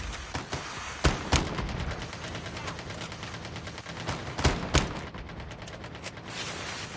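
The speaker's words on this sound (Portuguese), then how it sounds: "tô levando tiro" Repeated gunfire from a Call of Duty Mobile battle royale match, with dense bursts of shots and sharper single cracks recurring throughout, loud and close, with no talk over it.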